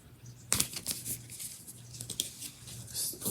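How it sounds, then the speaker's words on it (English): Tarot cards shuffled by hand at close range make quick papery riffles and soft slaps in short irregular bursts, fairly quiet, with no speech. "Still shuffling."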